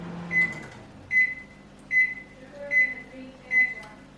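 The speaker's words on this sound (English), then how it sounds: "I'm just gonna microwave water." A microwave oven heating water for instant coffee gives five short, evenly spaced electronic beeps, clear and fairly near, over quiet room tone.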